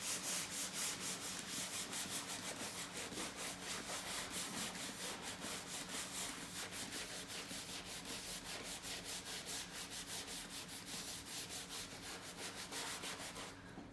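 Steady rubbing and wiping over leather upholstery as colour is stripped from the upper rear seat of a Riley Pathfinder, a continuous close scrubbing sound with a quick repeating stroke rhythm and no talk.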